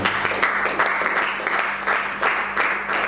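Church congregation applauding to acclaim Jesus during a French-language service, sustained rhythmic clapping from many hands, fairly loud and steady, without speech.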